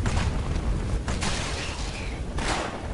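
A loud cannon blast in the video game Torchlight, with a deep booming rumble that carries on for a few seconds. No one speaks.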